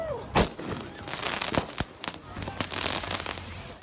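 Fireworks going off during street clashes in downtown Portland, a rapid scatter of sharp cracks and pops, some close and loud, others fainter, with crackling between bursts.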